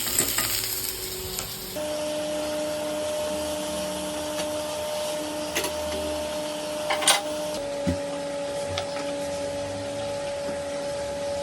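Potatoes and onions fry in a pan with a steady hiss and sizzle, over a constant tonal hum from a nearby appliance, with occasional scrapes and clicks.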